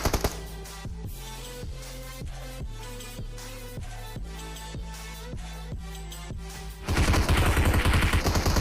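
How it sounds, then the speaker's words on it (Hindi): Shotgun blasts ring out in the mobile battle-royale game PUBG Mobile, about a dozen evenly spaced, loud booming shots in steady rhythm, followed by a burst of dense, harsh noise at the end. "जैसे तैसे मैं इस बंदे को नॉक तो कर देता हूँ, शॉर्ट गन मार के"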